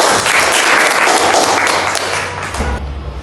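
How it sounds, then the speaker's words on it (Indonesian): A classroom full of students gives a burst of dense, loud clapping that tapers off toward the end, with a few low thumps as it fades. "Oke, aplaus dulu untuk Dila ya."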